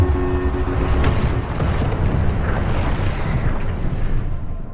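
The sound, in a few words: landing module exploding in movie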